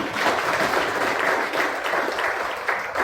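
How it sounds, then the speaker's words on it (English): An audience at a talk on Chanakya's Neeti Shastra applauds the guests seated on the dais, producing a full, steady roar of many clapping hands for about three seconds. "So can we have a big round of applause for these people?"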